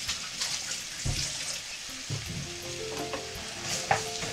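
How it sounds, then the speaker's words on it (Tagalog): Beef cheek kaldereta stew being stirred in a pot, a loud close sizzle with scraping and clinking of a spoon against the pot, bursts of bubbling under the stirring, no talk. "Tapos, haluin natin."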